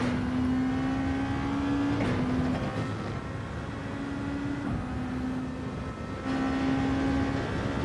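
A Nissan GT-R race car in Gran Turismo 7 holds a steady engine drone with a sustained tone that shifts pitch with each gear change, fairly faint and with no talk.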